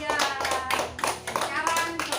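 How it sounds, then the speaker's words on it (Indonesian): A classroom group claps for a presenting group in a patterned, rhythmic series of sharp claps, close and lively, with voices chanting along in time between the bursts. "tepuk tangan untuk kelompok 3."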